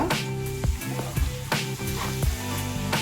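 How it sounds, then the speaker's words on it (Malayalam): Onions frying in a pan are stirred, giving a steady close sizzle broken by a few sharp scraping clicks from the utensil, with a faint musical hum beneath. "ഇപ്പം നമ്മളൊന്ന് ജസ്റ്റ് ഒന്ന് അതിൽ ഇളക്കി കൊടുക്കുക"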